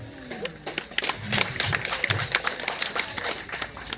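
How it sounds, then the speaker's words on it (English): Audience applauding the organizers of an event: dense, steady clapping from many hands fills the room for several seconds, with a voice briefly audible at the start. "let's applaud them"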